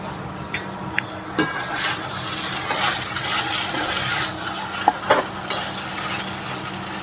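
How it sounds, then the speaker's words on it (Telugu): Okra (ladies finger) frying in a pan crackles in a steady sizzle while a spoon stirs through it with occasional scraping knocks, close and loud. "ఇప్పుడు ఫ్రై అయ్యిందో లేదో ఒకసారి తీసి కలుపుకుందాము"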